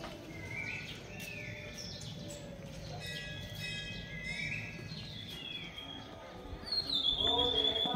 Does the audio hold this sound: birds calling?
yes